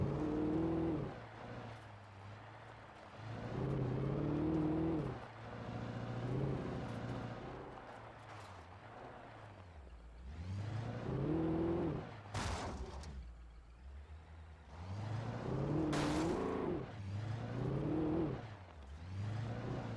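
A truck driving over rough ground in Alan Wake, its engine surging and easing in repeated waves of revving, with a couple of sharp knocks and jolts partway through.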